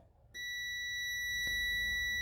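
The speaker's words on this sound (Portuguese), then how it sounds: "Deixa eu colocar aqui na escala de BIP, né?" A multimeter set to its continuity range gives a sudden steady high-pitched beep that starts abruptly and holds loud and unbroken until the end, alone with no speech.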